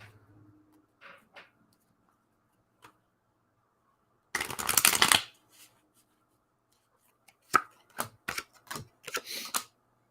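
Tarot cards are shuffled and handled for a reading: a sharp riffle burst, then a quick series of crisp snaps and taps as cards are laid down, close by in a quiet room, with no talk.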